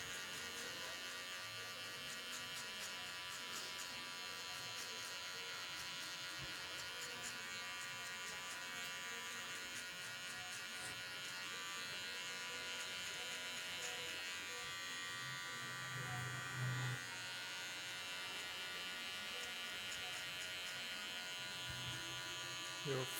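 Electric hair clippers buzz steadily while cutting a mid skin fade, the corner of the blade working close to the head; someone talks over the constant hum throughout.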